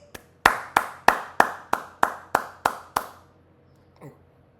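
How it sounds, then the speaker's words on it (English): A run of about nine sharp, evenly spaced hand claps, close and loud, fading in strength toward the end before a quiet pause. "Somebody had to get a smoking applause today."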